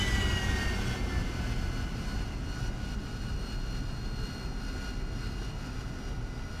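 An AV-8B Harrier's jet engine in the DCS flight game roars steadily at a continuous loud level as throttle is added during landing, with no voices.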